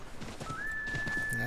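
A horse whinnies in Assassin's Creed III, a rising drawn-out neigh over soft clopping hooves and ambient game sound.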